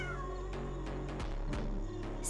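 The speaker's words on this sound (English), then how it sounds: "A kitten! A kitten! So cute!" A kitten meows several times in quick succession within a cartoon scene, short bright cries over a steady musical or ambient bed.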